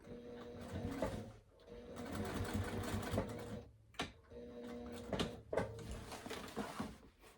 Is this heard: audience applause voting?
no